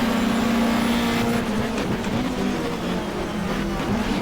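Race car engine in the 1994 GTR2 Australian Manufacturers Championship at Eastern Creek, braking into turn one amid a backed-up field; a loud, steady onboard drone whose pitch falls and shifts as the car drops to second gear.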